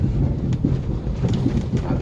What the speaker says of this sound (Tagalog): Medyo kasagsagan na ng ulan dito sa aming bayan.